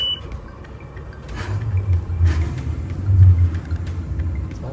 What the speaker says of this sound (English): So we've got the motors trimmed down, and I'm going to start them up.